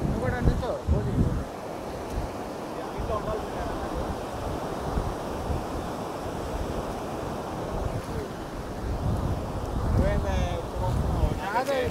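Ocean surf washes in continuously along Calangute Beach in Goa, a steady broadband rush with swelling surges near the start and end, mixed with wind noise and people talking nearby.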